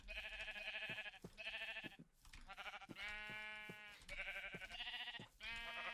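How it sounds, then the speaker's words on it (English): Repeated sheep bleats from a struck sheep in Minecraft Bedwars, about six short harmonic baa calls in quick succession with brief gaps, fairly quiet game audio with no talking. "I'm going to W tap this sheep here for a demonstration"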